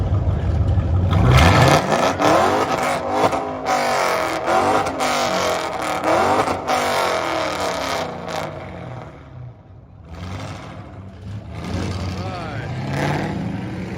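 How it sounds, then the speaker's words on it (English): Loud Mustang II engine revving repeatedly at an exhaust contest, rising and falling in pitch, with exhaust roar and people talking over it. "It's the exhaust contest."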